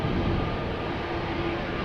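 Embraer E195-E2 regional jet departing Amsterdam Schiphol for Copenhagen, a brief, steady, dense engine roar at constant loudness with a faint tonal hum.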